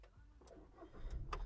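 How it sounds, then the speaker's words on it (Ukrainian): A Volkswagen Touran engine cranks with a few quick clicks and catches, rising into a low rumble at the end. "Давайте запустимо двигун"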